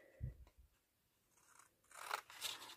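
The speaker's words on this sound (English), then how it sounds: "now I'm just going to take my larger scissors" A few crisp strokes of large scissors cutting through paper, close and quiet, with no voices.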